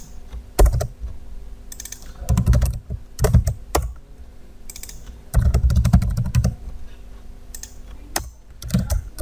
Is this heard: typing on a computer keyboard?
yes